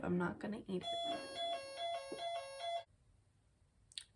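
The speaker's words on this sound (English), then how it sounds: "Apparently the phone that's in the office sounds like an emergency alarm." A bright electronic office phone ring chimes in a repeated alarm-like pattern for a couple of seconds, with a voice talking just before it starts.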